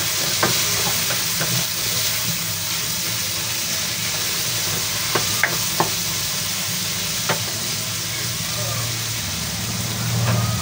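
Cooked tomatoes sizzling steadily in a hot pan for an ampalaya, egg and sotanghon dish, with a loud continuous fry and occasional sharp clicks of a utensil stirring against the pan.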